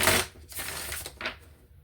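A few quick riffling bursts of tarot cards being shuffled, close by and fairly quiet, over about two seconds.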